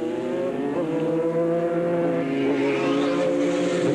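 Formula Holden race cars circle the Mallala circuit, a continuous droning engine note holding a steady pitch with a slight rise, moderately distant and unbroken.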